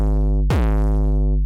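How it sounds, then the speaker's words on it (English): A heavily distorted 808 kick drum with soft clip distortion and full compression, giving a dense buzzing low tone with a sharp pitch-dropping hit mid-note, loud and alone, resembling a hardstyle kick. "it almost sounds like a hard style kick drum"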